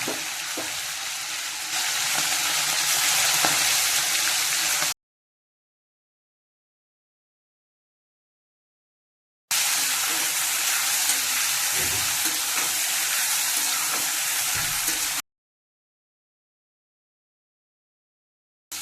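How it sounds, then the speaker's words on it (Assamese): Garam masala and homemade ginger-garlic paste fry in hot mustard oil, giving a loud, steady sizzle in two stretches separated by a silent gap, with no talking. "আকৌ এইফালে অলপ মিঠাতেল গৰম কৰিছোঁ। এইখিনি ভালকৈ ফ্ৰাই কৰি ল'ম তেলত।"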